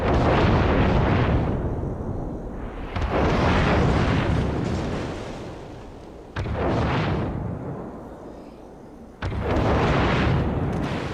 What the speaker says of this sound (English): it is the Gearing with those loud-ass guns